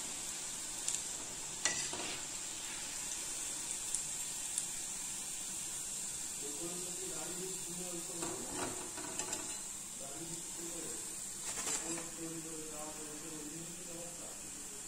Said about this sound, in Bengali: এবার আমি ভাজবো, তেলটা গরম করতে দিয়েছি